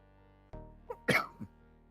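A person coughing in a sharp burst of two or three harsh hacks close to the microphone, with a faint sound just before and quiet otherwise.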